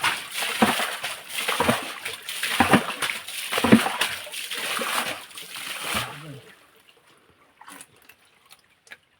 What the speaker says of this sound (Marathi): हे बघा पाणी उपसतात.